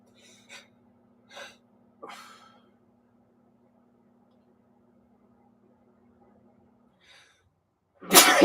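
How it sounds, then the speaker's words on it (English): A person has a sneezing fit indoors: three short, sharp nasal bursts come in quick succession, then a long quiet stretch and a faint sound before a loud, close burst at the very end. "My dad used to get sneezing fits like this."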